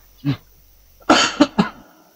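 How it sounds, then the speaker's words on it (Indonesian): A short single cough, then after a pause a quick burst of two or three harsher coughs close by, with no talking. "Tuh kok batuk bang?"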